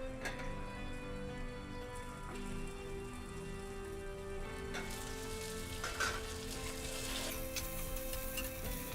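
Chicken fries in olive oil with garlic in a pan, giving a steady low sizzle and crackle, fairly quiet and without talk.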